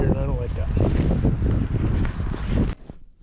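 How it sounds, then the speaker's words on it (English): Wind gusting against the microphone of someone up in a tree, low rumbling buffets under a man's speech before dropping away near the end. "It's getting a little windy here, and I don't like that."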